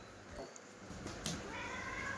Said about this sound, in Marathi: इकडे चावती बरं का ती मांजर.